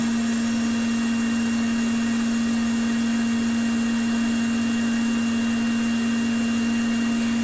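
Milk separator spinning while separating goat milk, a loud steady mechanical hum with a strong constant tone and even whirring noise, unchanging throughout.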